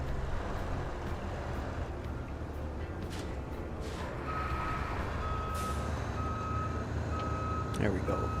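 Reversing beeps from a truck with articulated steering in the driving game Roadcraft, a steady series of high electronic tones over a constant engine rumble, with a brief air hiss near the end and a voice talking now and then.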